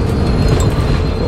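A train in Dishonored, a stealth video game set in Dunwall, rumbles steadily and loud throughout as a continuous rolling rail-car noise with no break.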